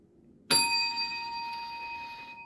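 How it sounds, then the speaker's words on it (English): A single bright strike of a small metal bell, ringing out sharply and then sustaining a clear, slowly fading tone with no talking over it. "As long as I got my bell, I'm happy."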